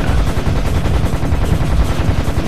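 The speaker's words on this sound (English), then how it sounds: "Yeah, keep firing at them." Rapid, loud automatic gunfire rattles continuously in dense bursts, close and unbroken, during a firefight in the shooter game Serious Sam HD.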